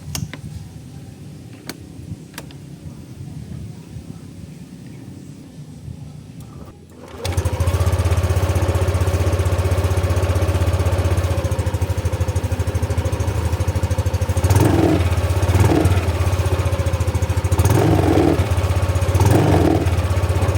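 After a few faint clicks, a Yamaha NMAX 155 motor scooter engine starts and settles into a steady, close idle, with a few brief revs toward the end.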